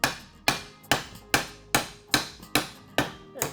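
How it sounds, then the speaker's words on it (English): Eight sharp, evenly spaced blows from a 2-pound hammer striking metal while working on an Aermacchi motorcycle front hub, each hit ringing briefly before the next, loud and close with no talking. "I've got a 2-pound hammer. Let's see what happens."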